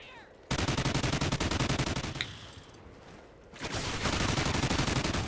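Automatic gunfire rattles in Call of Duty: Ghosts, with rapid dense bursts at the start and again near the end and a short quieter stretch between.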